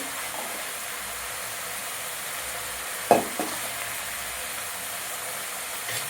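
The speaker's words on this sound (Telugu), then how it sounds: "కొంచెం బ్లాక్ పెప్పర్ కానీ వేయించండి." Black pepper fries in a pan for veg noodles with a faint, steady hiss, broken by a single sharp clack about halfway through, quiet and close, with no talk.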